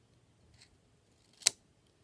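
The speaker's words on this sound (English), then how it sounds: "I'm going to cut this edge off right here" Scissors snip once through the edge of protective film on a LifeProof NUUD case for an iPhone SE, a single sharp, close cut preceded by a faint rustle in a quiet room.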